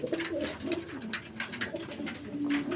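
Black Cheena pigeons coo repeatedly in soft, rolling calls close by, layered over one another with steady background noise and no talking.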